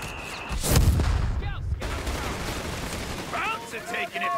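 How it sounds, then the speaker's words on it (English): Heavy machine gun fire in the World War II strategy game Company of Heroes 3, a loud burst of rapid shots early on, then battle noise under shouted voices. "Contact! Heavy MG!"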